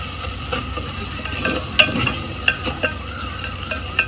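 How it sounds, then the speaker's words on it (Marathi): Masala frying and being stirred for mutton handi over a wood-fired village stove: steady sizzle with scattered spoon scrapes and light clinks, close and moderately loud. "मसाला हा छानपैकी परतत आहे"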